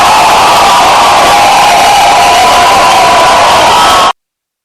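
A crowd cheers wildly with whoops and shouts, a dense, loud, continuous roar that cuts off abruptly after about four seconds, leaving silence.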